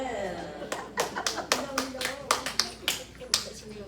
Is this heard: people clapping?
yes